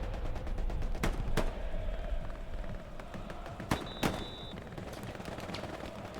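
Rocket and gunfire in Hell Let Loose, scattered sharp gunshots and a few heavier cracks at moderate distance over a steady battlefield din, with faint talk underneath.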